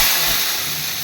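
A spice paste sizzles loudly in hot oil after tempering with cumin seeds and bay leaves, giving a dense, close, continuous hiss with no voices.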